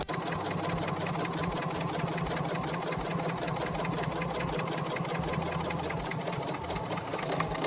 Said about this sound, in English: I'm just top stitching all the way around this square.